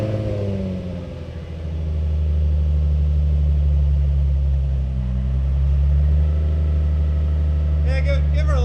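A Nissan 350Z HR fitted with a Z1 Touring exhaust idles with a steady, deep low rumble throughout, close and loud, with a brief rise near the end.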